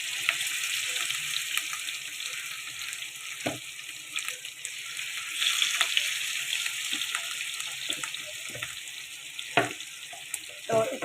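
Farmed fish pieces deep frying in hot oil, a steady bright sizzle and crackle running throughout with occasional clinks and stirring knocks; no talk.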